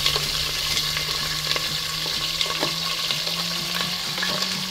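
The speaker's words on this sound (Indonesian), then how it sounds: "Tumis ya, kena tumis" Shallots sauté in hot oil with star anise and pandan leaves for chicken kurma, a continuous close sizzle and crackle with occasional soft stirring knocks and a faint steady hum beneath.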